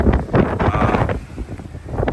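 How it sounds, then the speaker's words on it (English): Strong gusts buffet the microphone, producing loud, rumbling low-frequency bursts that swell and fade unevenly, with no speech over them. "as you can see, it's super windy out here."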